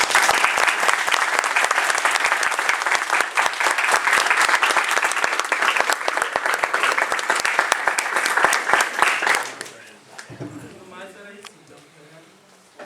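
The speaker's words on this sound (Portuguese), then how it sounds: "Então vamos dar uma salva de palmas para vocês." Audience at a mechatronics engineering conference applauding, a loud, dense round of many hands clapping close by that stops abruptly near the end, after which voices talk quietly.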